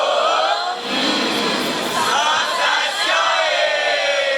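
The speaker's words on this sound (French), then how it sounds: "Elle n'a même pas encore parlé, vous acclamez déjà." Congregation at a Catholic thanksgiving Mass cheers and acclaims loudly, a broad sustained roar of many voices with shouts rising and falling throughout.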